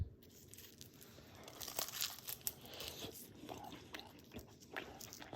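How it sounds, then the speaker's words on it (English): Close crunchy bites into crispy smoked chicken wings, a run of crackling, crinkling chews that is fairly quiet and steady, with no talk. "Hear that? How crispy it is?"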